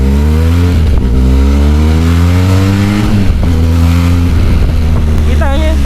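Engine of a 2024 Benelli TRK502X motorcycle fitted with a full crash guard, running steadily close by and rising and falling through a few smooth throttle blips.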